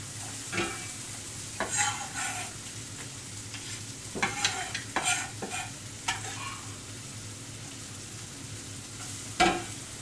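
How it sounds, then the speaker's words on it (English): Garlic frying in a pan, a steady soft sizzle with occasional stirring scrapes and clinks, close and alone without talk. "at this point I'm going to throw in my garlic for a little bit"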